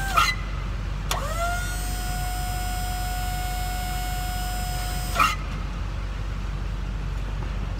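A new Ezyloader boat trailer's electric motor starts with a brief rising pitch, then holds a steady high whine for about four seconds before cutting off abruptly over a low background hum.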